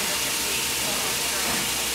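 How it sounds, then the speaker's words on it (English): Spray equipment applies vapor barrier paint to the ceiling of a manufactured home, making a steady, loud, broadband hiss that runs unbroken from start to finish. "That's what that noise is. We're turning the vapor barrier,"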